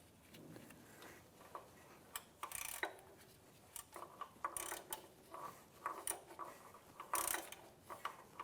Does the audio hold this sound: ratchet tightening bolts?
yes